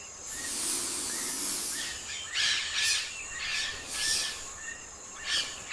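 Calls of migratory birds at a wild island stopover off the Brazilian coast, a series of bright chirps and tweets repeating in short bursts over a steady airy hiss, fairly close and clear with no voices.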